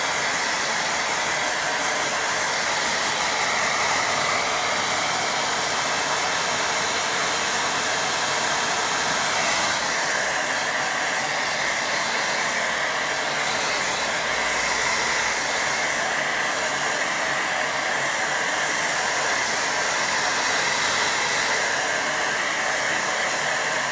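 A hair dryer blows on a watercolour painting, a loud, constant, close roar holding unbroken for the whole stretch.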